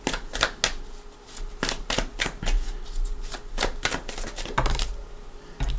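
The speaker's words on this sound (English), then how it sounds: "I do want to give the Gilded Tarot a couple shuffles here" Tarot cards are shuffled in quick riffling bursts, crisp snapping flutters repeating close by with short pauses between.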